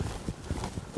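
Horse hooves beat quickly on the ground at a lope, a soft rapid clip-clop heard faintly for about a second.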